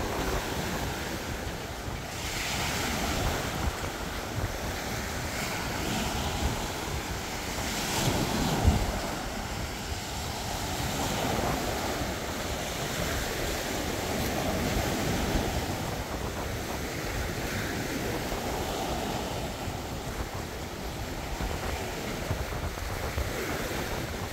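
Ocean waves wash steadily onto a beach at Dauin in the Philippines, a continuous rushing surf with gusty wind buffeting the microphone, fairly loud and unbroken throughout with no voices.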